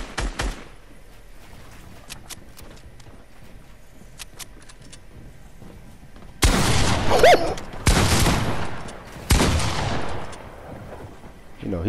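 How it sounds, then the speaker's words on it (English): Shotgun blasts in a Fortnite match, loud bursts of gunfire and build-breaking impacts starting midway and continuing in several heavy clusters, following quieter game ambience and faint clicks. "Why are you using a shotgun? Trying to break a build"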